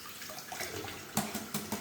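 Cool tap water runs into a bowl to chill boiled eggs for bacon deviled eggs, a soft steady splash and trickle in a kitchen, with a few brief clinks near the end.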